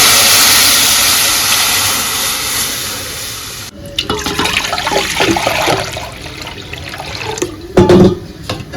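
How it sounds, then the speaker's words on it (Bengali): Water poured into curry in a hot pan with tempering oil, a steady rushing splash for several seconds, then a shift to softer bubbling and clattering sounds close up. "যতটা জল দিতে চাই আর কি ততটা এই টাইমে দিয়ে দিতে হবে"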